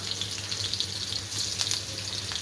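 Garlic frying in hot oil with cumin and mustard seeds while cooking a bitter gourd dish, a steady hiss and crackle running continuously at close range with no voices.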